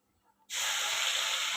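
Chili, garlic and ginger paste lands in hot oil for a spicy chicken dish. A sudden loud sizzle bursts in after a quiet moment and holds as a steady close hiss.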